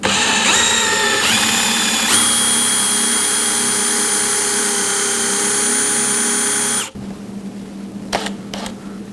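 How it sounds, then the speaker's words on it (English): A power drill fitted with a plug cutter bores a plug from a piece of wood, a loud continuous whine lasting several seconds that then stops, leaving a few faint clicks. "we're going to use our plug cutter to do that"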